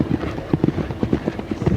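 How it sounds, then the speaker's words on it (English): Hooves of the event horse Tsetserleg galloping on turf during the cross-country phase at Badminton Horse Trials, a fast, steady clip-clop rhythm of close, loud hoofbeats over light crowd ambience. "Really full of galloping."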